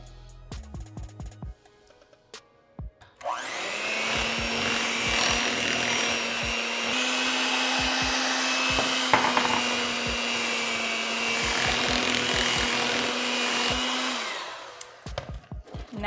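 Electric mixer blending almond flour into a cream cheese and butter mixture, a steady whirring drone that runs for about ten seconds after some light clattering, with scattered clicks and knocks over it.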